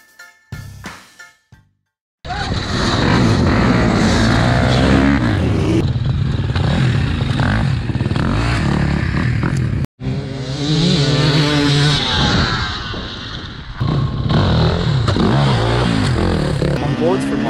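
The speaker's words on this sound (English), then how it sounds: "Onboards from my 2001 Honda CR 250." Onboard sound of a 2001 Honda CR 250 two-stroke motocross bike racing: a loud, continuous engine roar with rising and falling revs, close to the rider, briefly cutting out before resuming at full throttle.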